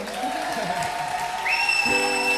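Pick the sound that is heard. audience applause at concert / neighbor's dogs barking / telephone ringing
audience applause at concert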